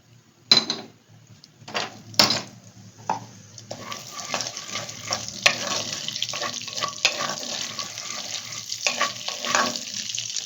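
Fennel, coriander and cumin seeds dropped into hot oil for tempering, a few sharp clinks of the pan before a steady close sizzle takes over and crackles on with occasional stirring.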